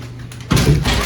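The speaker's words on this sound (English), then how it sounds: "The door is so strong." A heavy hotel room door swings shut with a single loud, close thud, after a brief quiet moment.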